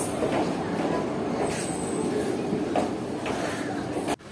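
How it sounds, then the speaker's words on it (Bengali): The Jamalpur Kaviguru Express, hauled by a Howrah WAP-4 locomotive, rolls into Bolpur station platform with a steady, close rumble and rattle of coaches and a brief clunk near the end. "আমাদের ট্রেন এখন জামালপুর কবিগুরু এক্সপ্রেস তার নির্ধারিত সময় থেকে মাত্র 10 মিনিট লেটে এসে ঢুকে পড়েছে বোলপুর রেল স্টেশনে 1 নম্বর প্ল্যাটফর্মে"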